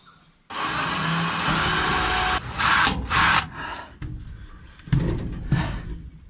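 A power drill with a blunt bit grinds into a wall while an inverter is being installed, a loud continuous whirring that stops, then returns in a few shorter bursts.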